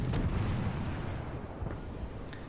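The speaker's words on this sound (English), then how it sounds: "I hit him with a torpedo." A deep, rumbling explosion from a torpedo hit in the naval battle game World of Warships, loud at the start and rolling off over a couple of seconds, with faint sharp pops above it.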